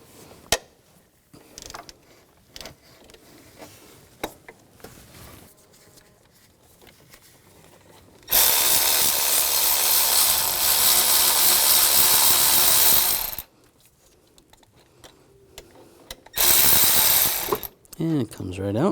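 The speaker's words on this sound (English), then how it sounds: "Using a 16mm socket, you want to loosen the bolt." Ratchet with a 16mm socket loosening the idler pulley bolt on a 2000-2006 BMW X5 3.0L inline-six, quiet handling noises, then a loud close burst of rapid clicking for several seconds, followed by a second shorter burst.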